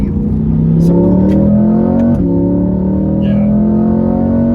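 A Chevrolet C8 Corvette exhaust revs in a deep, loud, continuous drone that climbs steadily, dips with a brief shift blip, then keeps rising.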